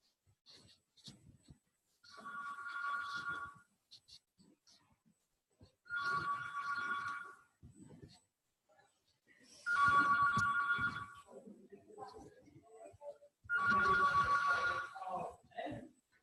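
A phone rings in four evenly spaced bursts of trilling electronic tone, with quiet rustling and faint sounds in the gaps between rings.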